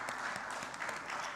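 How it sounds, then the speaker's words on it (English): A conference audience at a closing ceremony applauds a newly elected board, with a short stretch of dense, even clapping heard at a distance and fairly faint. "So please help me to give a round of applause to this new elected"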